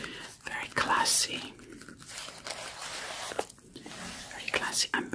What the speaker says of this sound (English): I'm wearing these gloves for extra sounds on the paper.